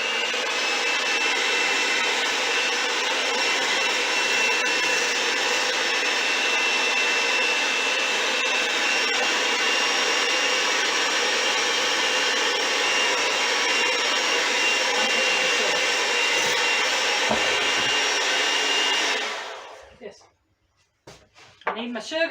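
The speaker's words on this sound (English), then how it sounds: "These egg whites will increase in volume as you beat them." An electric mixer whirs steadily while beating egg whites in a large bowl for meringue, a loud continuous broadband drone that runs for most of the stretch, then cuts off near the end, leaving brief clatter.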